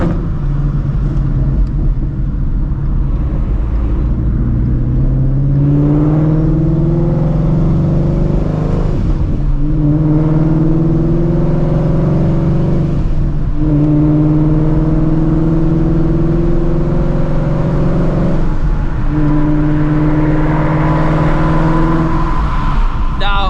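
A procharged Shelby GT350 driving at a steady, loud engine drone, with several rising gear pulls and shifts and a constant road rumble throughout; a voice talks faintly now and then.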